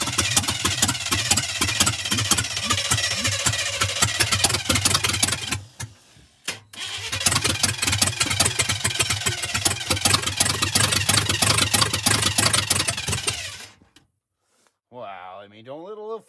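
A 1985 Chevy engine being cranked with starting fluid, a loud rough rapid chugging that runs, cuts out briefly, resumes, then stops, followed by a short wavering squeal.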